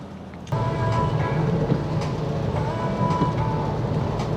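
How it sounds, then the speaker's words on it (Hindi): Steady rain on a car driving along a six-lane highway in evening traffic produces a dense, constant rushing hiss and low road rumble that swells suddenly after a brief quieter moment, with faint clicks and no talking. "भाई बस बारिश हो रही है और ट्रैफिक भी बढ़ गया"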